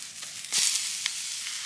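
Mince and diced steak go into a red-hot pan over an outdoor campfire for spaghetti bolognese, a sudden burst of loud sizzling that settles into a steady hiss with a few faint pops, no voices.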